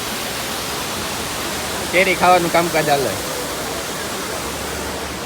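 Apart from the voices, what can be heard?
waterfall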